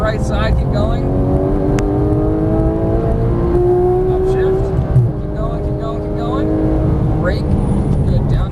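Porsche 991 GT3 accelerating on a race track, its engine note climbing steadily through the gears with a brief shift dip midway, loud and close throughout, under an instructor talking continuously.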